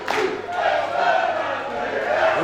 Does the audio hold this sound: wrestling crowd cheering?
yes